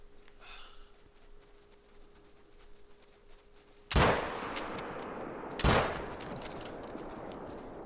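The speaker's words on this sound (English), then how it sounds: "I decided to put 2 shots into him." Two rifle shots from a 6.5 caliber at a whitetail buck: a quiet outdoor lull, then a loud sharp crack with a rolling echo, and a second shot about two seconds later.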